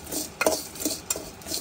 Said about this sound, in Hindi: चलिए यहाँ पे हिला हिला के मंचूरियन भेल